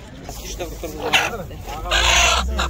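Chickens and roosters at a livestock market in Zharkent, with repeated clucking and crowing calls close by, mixed with people talking amid busy market bustle.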